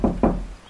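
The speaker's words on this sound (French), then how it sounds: "des coups ont été frappés à ma porte." Two quick knocks on a door, close and fairly loud, used as a sound effect in a horror story narration set on a rainy night, with a faint tail fading after the second rap.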